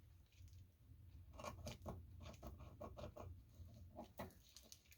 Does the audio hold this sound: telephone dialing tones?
no